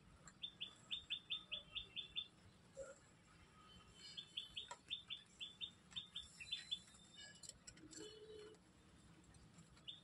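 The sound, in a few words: Sirazi pigeons calling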